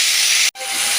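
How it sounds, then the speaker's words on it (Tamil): Onion, tomato and ginger-garlic paste sautéing in a pan for mutton kuzhambu give a steady, loud broadband sizzle, cut by one brief silent gap midway before the hiss resumes. "உப்பு சேர்த்து நல்லா வதக்கிக்கலாம்."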